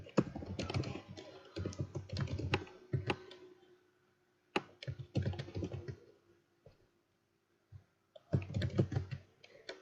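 Typing on a computer keyboard, close bursts of quick plastic key clicks in several runs separated by pauses, with no voices.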